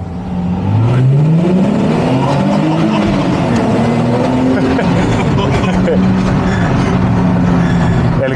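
Race car driving through the tunnel at the Jarama circuit, its engine note rising and sweeping in pitch as it accelerates, loud and continuous throughout with voices talking over it.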